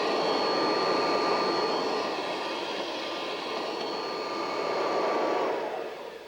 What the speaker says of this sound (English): This is the Kirby Home Care system, but it's not just an ordinary Hoover.